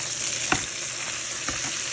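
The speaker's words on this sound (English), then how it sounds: "my steak is cooking" A T-bone steak sizzles in a pan on the stove: a steady, bright frying hiss runs throughout, with a couple of soft scraping knocks as the meat shifts.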